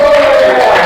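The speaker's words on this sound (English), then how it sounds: "give big applause" Classroom applause from a group of students, a dense, steady burst of clapping that is loud and close and lasts about a second.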